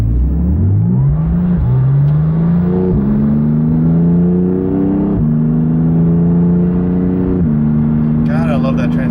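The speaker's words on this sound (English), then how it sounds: "Do a little acceleration here." A Porsche 911 GT2 RS accelerating on the road, its engine note rising steadily through gears with brief dips at each seamless shift, loud and close from inside the car.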